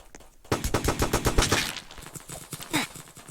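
Rapid bursts of video game automatic gunfire rattle loudly in quick succession, then thin out into a few scattered shots with a sharp metallic scrape.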